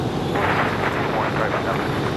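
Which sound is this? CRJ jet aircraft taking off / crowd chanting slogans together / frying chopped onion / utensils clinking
CRJ jet aircraft taking off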